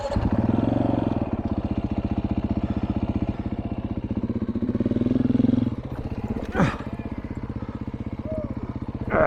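A proper dirt bike with a 21-inch front tire runs steadily with a rapid, throbbing single-cylinder pulse while descending a steep off-road trail in Colorado's OHV area, loud and close throughout, with a brief sharp rise near the end.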